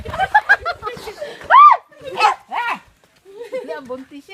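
Dogs barking in short, loud bursts with yips and whimpery tones, close by and mixed with people talking excitedly around them.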